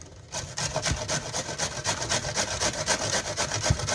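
Cabbage being grated on the cheese side of a box grater for pellau, a steady rapid scraping stroke repeated close up, loud and rhythmic with no talking.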